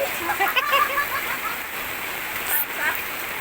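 Rain pours steadily while children bathe in it outdoors, a soft even hiss of falling water under excited voices and chatter.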